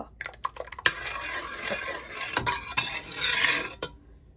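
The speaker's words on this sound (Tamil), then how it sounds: "அடியில் கட்டு இருந்தால் அப்படி நீங்கள் கிளச்சி விடுங்க" Black kavuni rice porridge being stirred in a pot, with a close spoon or ladle scraping and clinking against the metal in an uneven rhythm of strokes, alone before a quiet pause.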